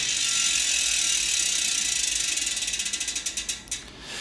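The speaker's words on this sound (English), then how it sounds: "you'll hear that beautiful sound as you spin it" An Industry Nine Torch bicycle hub ratchet buzzes in a rapid clicking stream as the wheel spins, the clicks slowing and spreading apart until they stop.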